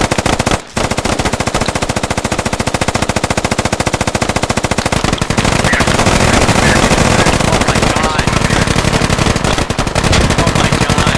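Relentless heavy machine-gun fire in the tactical multiplayer shooter Squad v10, dense continuous loud bursts filling the scene with barely a break, with a voice briefly heard under the din.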